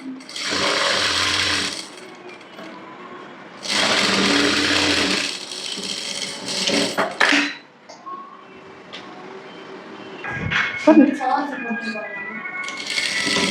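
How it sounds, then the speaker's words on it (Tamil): A sewing machine stitching a blouse runs in two short bursts of steady whirring, with quieter handling sounds and a voice in the gaps afterward. "இப்போ நம்ம வந்து திரும்ப ஒரு ஸ்டிச் போட்டுக்கலாம்"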